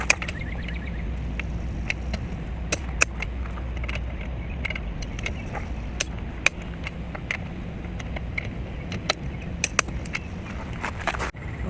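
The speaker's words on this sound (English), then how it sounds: "It's set to 100 foot-pounds, which is what's in the spec for our tires. And I'm just going to torque each of the wheels." A torque wrench set to 100 foot-pounds tightening the wheel nuts on a Safari Condo Alto R travel trailer: irregular sharp metallic clicks and clinks over a steady low outdoor rumble.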